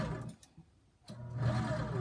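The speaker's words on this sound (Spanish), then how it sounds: "continúo cosiendo un cuarto de pulgada" A home sewing machine runs briefly while stitching fabric a quarter inch from the edge for homemade face masks, a close mechanical hum that pauses and resumes.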